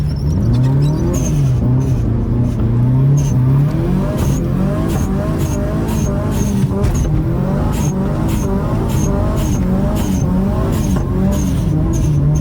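A Mitsubishi Evo 6 engine drones hard and revs through rising and falling pitch, with a regular ticking pattern running throughout, heard loud and close from inside the car.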